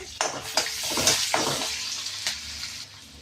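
Garlic and onion sauté in a pan for snake gourd puttu, a steady close sizzle broken by several sharp stirring scrapes and clatters against the pan.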